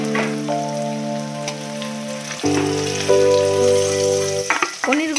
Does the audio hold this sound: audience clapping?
no